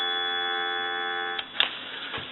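A steady, buzzy dial tone from a Western Electric 500 desk telephone receiver hums evenly for over a second, then breaks off into a few clicks and handling noises.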